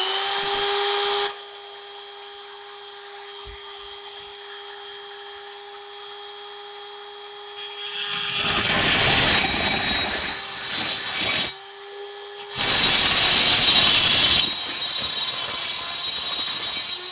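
A drill boring into the crankcase of an 86cc engine, loud high-pitched whining bursts starting and stopping several times, with quieter mechanical hum between them.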